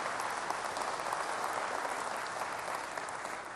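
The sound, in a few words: audience applause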